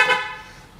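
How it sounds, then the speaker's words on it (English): A 2008 Acura TL car horn gives one short, loud, bright blast that fades quickly. "It's a loud horn."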